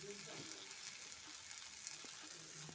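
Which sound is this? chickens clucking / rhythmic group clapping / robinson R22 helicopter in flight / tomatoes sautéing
tomatoes sautéing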